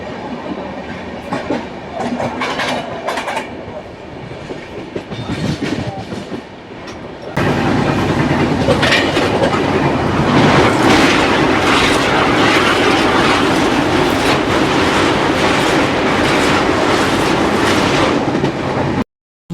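The Tamil Nadu Sampark Kranti superfast express runs on the rails near Dornakal Junction, at first moderately loud with faint clatter, then roaring louder and closer with steady rumble and wheel clack until it cuts off abruptly.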